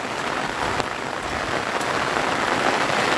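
Steady rain falls on a farm field, a dense even hiss of drops on surfaces with no voices, holding close and constant throughout.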